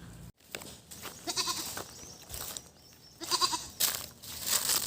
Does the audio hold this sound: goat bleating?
yes